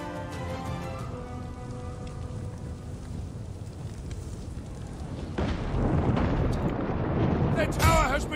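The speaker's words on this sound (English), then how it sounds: "The tower has been destroyed!" Siege artillery destroying a tower in the Total War: Attila video game, a rumbling crash and crumbling burst that swells partway through over a background of battle noise, with a voice speaking near the end.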